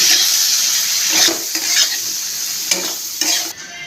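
Taro stems seasoned with salt and turmeric sizzle loudly in hot oil, a constant close frying hiss broken by a few stirring scrapes before it cuts off near the end.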